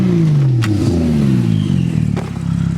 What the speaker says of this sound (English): the turbo noise is insane